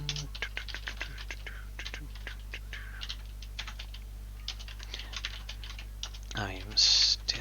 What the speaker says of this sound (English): I am still typing out things that I should be letting the snippet help me with